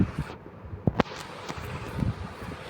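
A grenade detonates in a Minecraft guns mod, a short sharp blast near the middle, followed by another burst and scattered crackling pops over a steady noisy game background.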